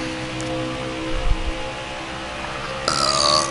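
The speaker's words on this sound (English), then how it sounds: "Oh man, I just belched again." A single close burp from a man, brief and low, over a quiet room with light background hiss.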